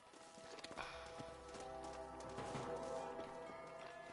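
Horse hooves clip-clop steadily in the Red Dead Redemption video game, a rhythmic trotting patter at moderate distance layered under a dense musical score and ambient game sound.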